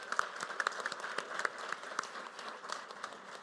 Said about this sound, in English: Yeah, let's clap for them.